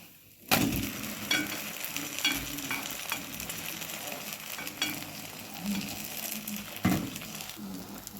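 Pastry pies fry in a pan while a spatula stirs and lifts them, giving a steady sizzle under repeated scrapes and soft taps. A sharp clack opens the sequence and another comes near the end.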